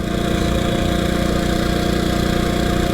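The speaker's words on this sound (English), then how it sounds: "Plenty of throttle, advance the ignition, off we go." A 1926 HRD Model 80 motorcycle engine pulls under throttle on a ride, a steady loud rough mechanical drone with dense rapid firing pulses throughout and no talk.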